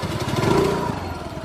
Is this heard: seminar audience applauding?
no